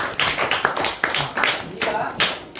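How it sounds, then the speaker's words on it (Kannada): Classroom of students clapping their hands together, a quick run of sharp claps in irregular bursts, close and fairly loud. "ಓಕೆ ಚಪ್ಪಾಳೆ ಎಲ್ಲರೂ"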